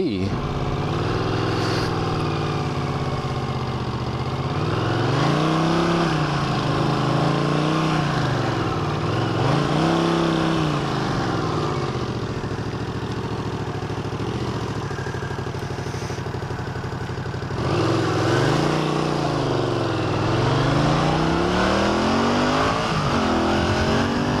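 A cold 1981 Honda CX500 motorcycle engine runs on choke, a steady close throbbing idle that rises and falls in several slow revs, with someone talking over it.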